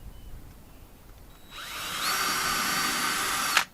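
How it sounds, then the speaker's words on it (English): After a moment of quiet, a power drill whirs up and bores steadily into wood for about two seconds, pre-drilling a screw hole, then cuts off abruptly. "Pre-drill it so it makes it easier."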